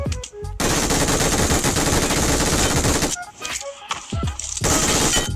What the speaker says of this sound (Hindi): उसके जस्ट बगल से फायरिंग आ रही है